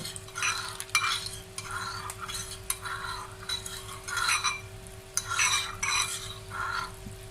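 Biryani rice being stirred with zarda food colour in a pot, a steady scraping and clinking of a spoon in repeated strokes, close and fairly loud, with a faint sizzle beneath and no talking.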